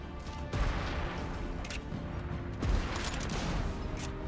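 Two sharp gunshot bursts crack out about two seconds apart in Sniper Elite 5, each followed by a rumbling tail over low background noise.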